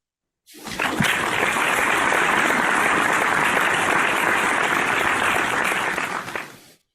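Clapping during an online local SEO and marketing session comes through as a dense, hissing burst that starts abruptly, holds steady and loud for about six seconds, then cuts off.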